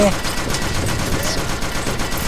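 Rapid gunfire from shooting monsters in a train-defense video game, a dense steady clatter of shots running throughout at close, even loudness.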